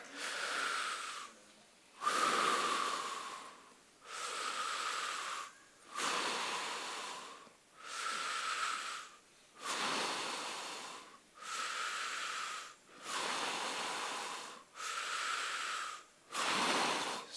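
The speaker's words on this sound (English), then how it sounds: "why don't we just do a little breathing exercise, just 5 deep breaths" An audience breathes in unison, taking deep breaths in a steady rhythm: about nine long, loud whooshing inhales and exhales, each separated by a brief pause, with no talking.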